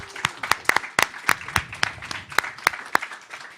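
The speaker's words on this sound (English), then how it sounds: "One more round of applause." Applause after a community discussion, heard as sparse, distinct individual claps spaced irregularly about every quarter second, crisp and fairly close, fading out.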